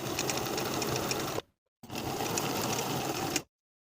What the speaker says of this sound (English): Now I'll sew those 4 buttonholes in place.